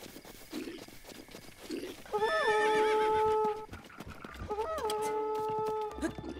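Two loud whinnies from a horse in The Legend of Zelda: Breath of the Wild, one long and one shorter, set against game ambience, with faint hoof and combat noises beneath.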